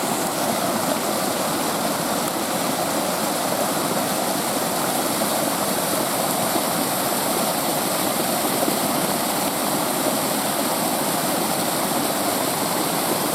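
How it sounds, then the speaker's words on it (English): Steady rushing of a mountain stream, water pouring continuously over rocks, close and loud with no pauses for the whole stretch. "now what we have is just the sound of running water"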